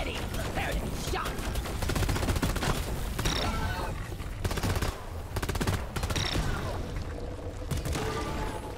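Sustained rapid weapon fire in Deep Rock Galactic, dense repeated shots rattling continuously over a loud, busy game soundscape with machinery-like noise.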